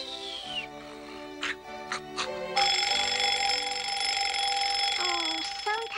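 A cartoon alarm clock rings loudly and continuously after a few short rising tones, a bright electronic-sounding jangle that sustains for several seconds in the 1980s Strawberry Shortcake animated special.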